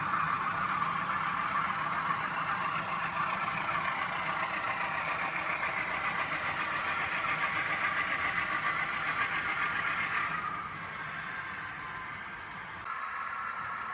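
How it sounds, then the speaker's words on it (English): Steady, loud rumbling of a train crossing the Kennebunk River Bridge, with a continuous mechanical roar, easing slightly near the end. "Right now the train is crossing the Kennebunk River Bridge"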